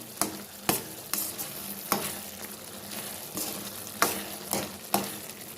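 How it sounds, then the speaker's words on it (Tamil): Tomatoes sautéing in a pan for tomato thokku, a soft sizzle broken by about a dozen irregular sharp scrapes and knocks of a spoon stirring against the pan, close and with no talk. "சேர்த்து வதக்கணும்."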